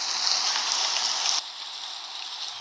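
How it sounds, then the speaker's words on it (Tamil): Heavy rain pours down in a steady, dense hiss, loud and close at first, then easing slightly to a softer but continuous downpour, with no voices. "ஜோராக மழை வந்துச்சு"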